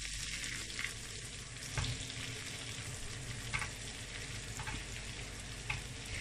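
Deveined shell-on shrimp stir-fried in a pan before butter and garlic go in, a constant bright frying hiss with occasional soft stirring knocks, no talking.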